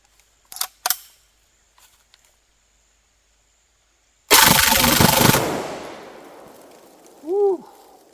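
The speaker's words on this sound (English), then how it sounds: "this is the micro Uzi, 25 rounds of Winchester White Box, full auto, don't let off" An IMI Micro Uzi loaded with Winchester White Box ammunition fires a loud, rapid full-auto burst of about a second after a few faint clicks, the roar echoing and fading on the range, followed by an excited shout.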